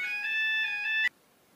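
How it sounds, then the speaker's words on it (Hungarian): A phone ringtone for an incoming call plays as a bright, steady electronic tone for about a second, then cuts off abruptly into near silence. "Ó, most van egy telefonhívásom"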